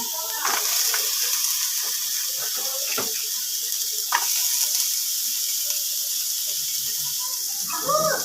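Onions dropped into hot oil in a pan for cooking lentils, a broad continuous sizzle and hiss with a few soft clinks and scrapes, fairly close.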